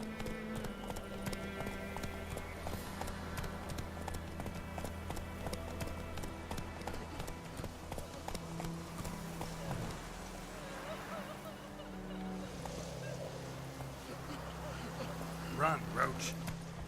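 Horse hooves galloping in The Witcher 3 video game, a steady rhythmic clip-clop running beneath game music and ambient sound, moderately quiet and continuous throughout.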